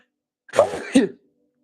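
A single short, sharp sneeze bursts out close up, followed by silence.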